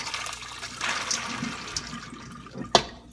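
Cooked beans and water pour from a heavy bean pot into a colander in a kitchen sink, a soft close splashing rush with a sharp clunk near the end.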